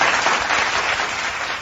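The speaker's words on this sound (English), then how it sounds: "A little applause" A crowd gives a round of applause, a dense, even wash of clapping that holds steady and fairly loud throughout.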